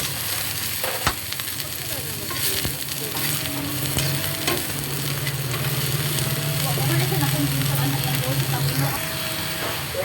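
Cabbage and tofu stir-frying in a hot pan, a constant loud sizzle with scraping and tossing strokes throughout, and a voice talking at times over the cooking.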